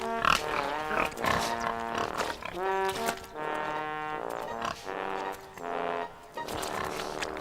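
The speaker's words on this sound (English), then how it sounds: "Thomas was watching the pigs roll in the mud." Pigs on a farm grunt and squeal in steady, loud, tonal bursts that repeat throughout, up close and with no talk over them.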